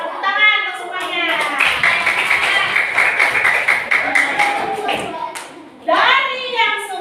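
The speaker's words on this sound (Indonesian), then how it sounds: "Tepuk tangan untuk semuanya." Schoolchildren in a classroom clap their hands together, a bright rapid patter of claps sustained for several seconds amid a teacher's talking, with a brief pause before voices resume.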